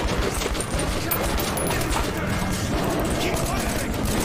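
Sustained gunfire from the video game Metro 2033 on PS4, a dense, continuous clatter of shots that fills the whole stretch at steady loudness, with a voice partly audible under it.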